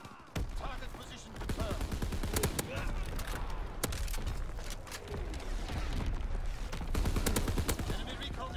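An artillery battery fires in a war video game, with a steady stream of sharp reports and rapid booming shots layered over a continuous rumble, loud and sustained, while a voice speaks over it.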